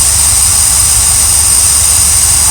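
An RV engine runs with its engine cover off, giving a loud, steady, close-up drone with a sustained high whine on top. It holds unchanged for the whole stretch, and no one speaks.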